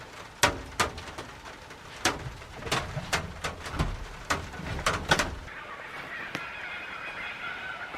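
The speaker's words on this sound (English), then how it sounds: "listen to those cuckoos go" Repeated cuckoo calls from a distance, mixed with sharp scattered tapping rain drips, then a softer steady tone as the tapping fades.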